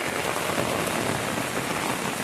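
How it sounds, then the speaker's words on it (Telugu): Rain falls steadily at night, a dense even patter on surfaces, close and continuous with no voices. "ఇవాళైతే వర్షం అయితే పడుతున్నది"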